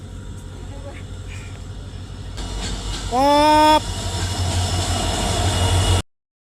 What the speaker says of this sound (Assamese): বৰ্তমান ট্ৰেইন আহি পাই গ'ল এয়া লিডু ইণ্টাৰচিটি টু গুৱাহাটী